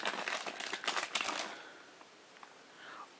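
A mystery mini blind box package is cut open, with close, busy plastic and foil crinkling for about a second and a half that then fades to quiet rustles.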